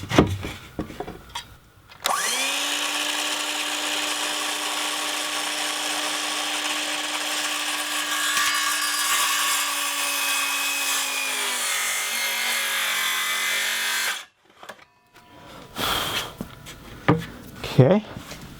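A power tool cuts a box-shaped opening in pine paneling with a loud, sustained whine that holds steady for about twelve seconds, then drops in pitch briefly before stopping. Short handling noises and knocks come before and after the cut.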